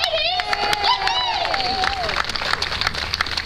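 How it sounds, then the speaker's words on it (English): A crowd applauds and cheers at an outdoor town event in Jackson Hole, Wyoming, for the first all-female town council, a steady wash of clapping with whoops and a loud voice over it. "Let's give a round of applause for our ladies."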